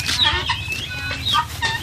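Chickens cluck and squawk nearby in a burst of several short, loud calls, with farmyard noise beneath.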